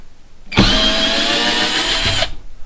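Warrior cordless drill running in reverse to back out a screw, a loud whirring motor burst close by lasting under two seconds, starting and stopping abruptly with no talk over it.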